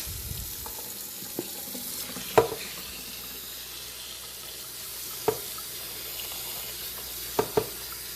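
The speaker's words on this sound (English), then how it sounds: "I'm gonna fill it with water." Steady broadband water rush from a running tap filling a pot, with a few sharp clinks and knocks scattered throughout.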